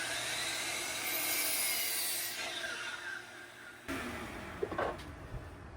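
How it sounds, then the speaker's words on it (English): A 15-degree miter cut being sawn into wood for an outdoor chair leg, continuous close rasping strokes that drop off and then resume with a few sharper scrapes near the end. "I'm going to cut my 15-degree miter right on this edge"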